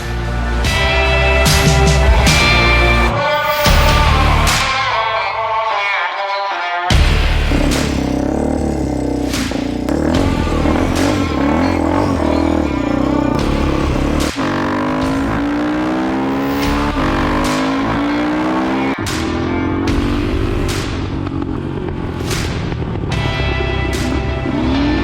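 A custom Bull Taco–Honda motorcycle build out on a ride, its engine revving and surging loud and close for the whole stretch, with gear changes, rising and falling pitch and a brief drop-off near the start.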